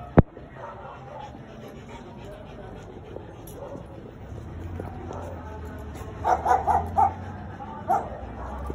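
Chihuahua dogs yip and whimper from a short distance, a cluster of sharp little barks arriving late after a quiet stretch of room noise.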